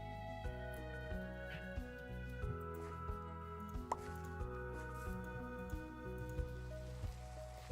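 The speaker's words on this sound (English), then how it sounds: "Raining around." Rain falls in the video game Minecraft as a soft, steady patter, quiet and continuous, under sustained tonal background music.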